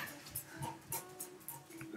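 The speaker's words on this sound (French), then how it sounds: "Oh là là, c'est un chien!" A small dog makes faint whimpering and snuffling noises in short bursts, quiet and close by.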